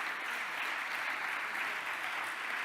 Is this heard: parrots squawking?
no